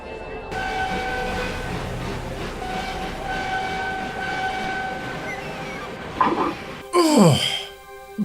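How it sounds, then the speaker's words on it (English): A steam engine train running in poor condition chugs along with a steady rumble and whistle-like tones, followed by loud squealing, hissing bursts toward the end. "You don't sound too good, Rheneas"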